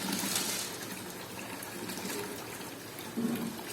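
Water pouring and trickling into a home fish tank during a water change, a steady close splashing flow with a slight surge near the end.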